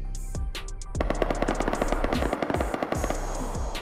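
Gunfire in the survival game Rust, rapid bursts of automatic shots in a fast rhythmic stream, loud and close, following a few isolated shots at the start.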